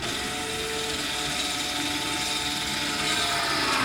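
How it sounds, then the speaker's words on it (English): A BMW F10 M5's electronic parking brake engages with a continuous mechanical whirring and grinding of its motor and gears, close up and steady for about four seconds. "Then proceed to reapply the electronic brake. You'll hear it activate like this."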